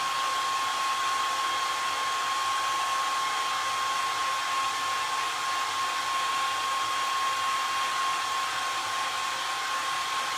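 A hair dryer blows steadily and close for the whole stretch while drying a freshly glued vintage Christmas ornament, a constant whooshing roar with a thin whine running through it and no talking.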